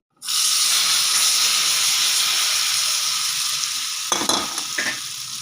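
Loud, steady sizzling of spices, curry leaves and deggi chili crackling in hot oil as kadhi tempering, continuous from start to finish, with a few brief clatters near the end.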